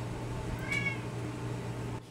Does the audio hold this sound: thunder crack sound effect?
no